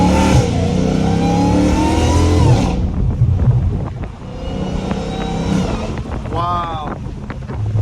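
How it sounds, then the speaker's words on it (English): A Dodge Hellcat Redeye with a catless exhaust roars loudly as it revs, then drops off through several downshifts with crackling bursts, all heard close up over steady wind noise. "Oh my gosh, those downshifts."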